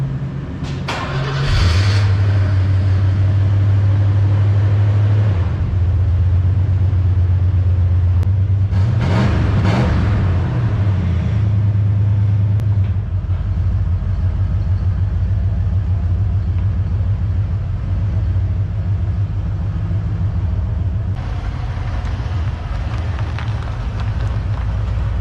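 A Ford Bronco fitted with a Rough Country lift starts up and idles with a deep, steady engine rumble close by, revving briefly as it pulls slowly out of the garage.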